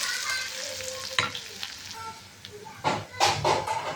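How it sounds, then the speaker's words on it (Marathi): Peanuts and curry leaves frying in hot oil crackle and sizzle up close, broken by scraping stirs and brighter bursts of spattering toward the end, with no one speaking. "याला चांगलं आपल्याला आता मिक्स करून घ्यायचे आणि चांगलं तळू द्यायचं तेलामध्ये."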